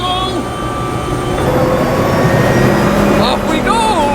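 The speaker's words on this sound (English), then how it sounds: "Okay, let's go in the helicopter!" A helicopter starts up and takes off at a cars-and-coffee meet in Tullamore: a loud, steady engine and rotor drone fills the cabin throughout, with a voice speaking over the noise.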